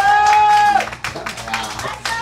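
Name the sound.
audience clapping for a singer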